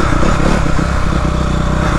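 Dirt bike engine revving hard while popping a wheelie in second gear, a loud, continuous raspy motor roar filling the whole stretch with a steady, near tone.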